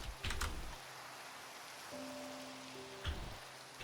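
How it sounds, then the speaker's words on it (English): Rain falling in the game Minecraft, a steady soft hiss of rainfall carrying on throughout, with a few brief knocks and a low tonal hum partly layered over it, and no voices. "Oh, it's raining."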